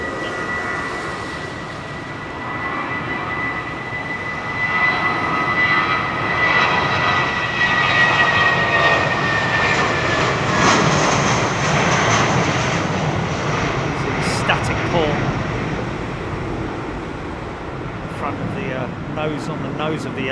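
An Airbus airliner at London Heathrow Airport in rain, a broad steady engine roar that swells and holds with a rising whine, with people talking over it.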